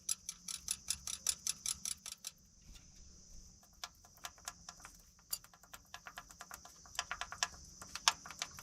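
A JCB 180T mono-boom skid steer engine with a loose rocker, giving a fast run of sharp metallic clanks and ticks, evenly spaced in bursts, close and fairly faint over a low engine hum, with no talk.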